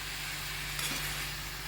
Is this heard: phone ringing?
no